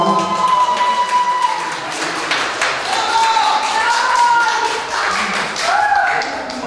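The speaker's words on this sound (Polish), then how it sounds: "To jest bardzo brawa dla Damiana." Guests clap for the groom Damian at a Polish wedding reception, a scattered burst of hand claps that runs the whole time beneath a loud, busy room with voices talking over it.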